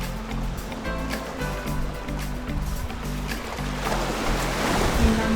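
Atlantic Ocean surf along the Playa Blanca promenade on Lanzarote, a steady broad wash of waves that swells slightly toward the end, overlaid with a faint repeating musical tone in the background.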